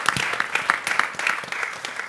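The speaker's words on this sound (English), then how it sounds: "Please give a big round of applause to all my five panelists" An audience applauds the five panelists at the end of a forum on ASEAN pluralism, a steady wash of many hands clapping from a crowd.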